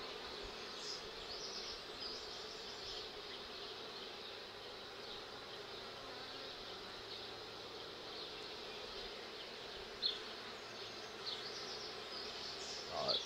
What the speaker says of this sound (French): C'est un essaim hybride, ça se voit.